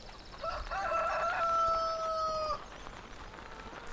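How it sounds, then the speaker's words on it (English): A rooster crows once in a farm video game, a long clear cock-a-doodle-doo at moderate distance, followed by quiet background. "Now chickens running free around the farm."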